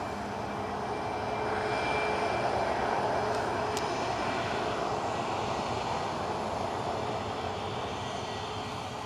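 Airliner engine running on the runway at Newcastle airport, a steady loud broadband roar holding level throughout with no voices over it.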